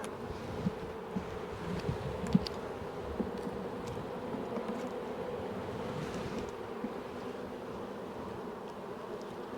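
A hive of queenless honeybees gives off a loud, dense, continuous buzzing, restless and agitated, with a few brief louder bursts near the start and no talk over it.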